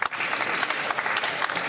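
Applause from members in the Canadian House of Commons, a brief steady burst of many hands clapping at moderate volume across a large chamber.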